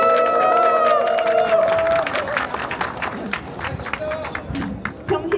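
Audience at the opening ceremony of a Catholic pilgrimage ultramarathon gives warm welcoming applause for a bishop, a loud round of clapping that swells over an announcer's voice and then thins out.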